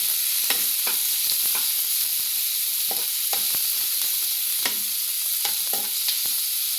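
Onion frying in a pan over a high flame for veg roll filling, a loud, constant hissing sizzle with repeated spatula taps and scrapes against the pan.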